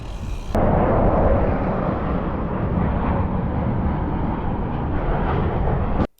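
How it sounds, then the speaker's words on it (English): Loud, continuous broadband roar of an airplane passing low overhead near SeaTac airport's runways, filling the whole stretch before cutting off abruptly. "Oh, I see an airplane."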